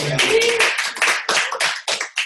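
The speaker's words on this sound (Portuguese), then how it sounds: "Uma salva de palmas pro Marcos." A few people clap close by in a short, uneven round of sharp hand claps, each strike distinct, trailing off after a couple of seconds with little talk.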